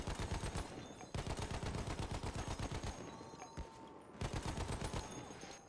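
Rapid automatic gunfire from a video game rattles in dense bursts, pausing briefly around the one- and four-second marks before resuming loud and close throughout.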